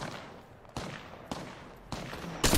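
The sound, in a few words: gunfire in the video game PUBG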